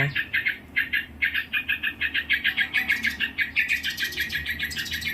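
Birds near their nest call repeatedly in rapid, harsh chirping bursts, loud and nearby, an agitated rhythmic series of scolding calls.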